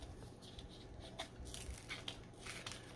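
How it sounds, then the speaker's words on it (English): Scrapbook paper being torn and handled at a crafting table, with faint close tearing and crinkling rustles in short bursts over a low steady background hum, no voices. "I'm torturing my paper."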